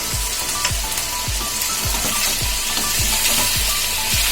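Mutton and potatoes fry in a pan with a loud, steady sizzle, while a spoon scrapes through them in a regular rhythm of about two strokes a second, close up and without talk.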